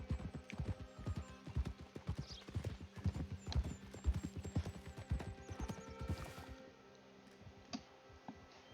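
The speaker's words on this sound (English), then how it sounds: "It's like Junior's first horse, seriously" Horse hooves clip-clop in a steady, brisk rhythm through the video game Red Dead Redemption 2, loud and close at first, then thinning to scattered faint steps near the end with no talking.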